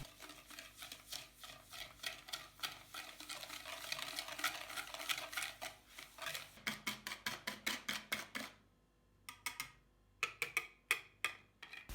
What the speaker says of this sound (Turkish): Tel çırpıcıyla yumurta ve şekeri çırpalım.